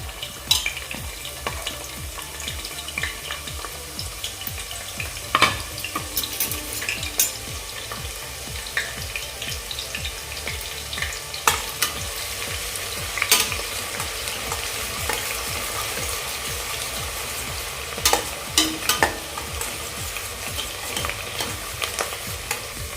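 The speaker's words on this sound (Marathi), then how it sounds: "आता यामध्ये आपण तो उरवलेला कांदा ठेवलेला कांदा आपण यामध्ये घालून घेऊया" Onions fry with a constant sizzle in a pot for prawn biryani while a spoon stirs them, giving repeated scraping knocks against the metal over a loud, continuous crackle.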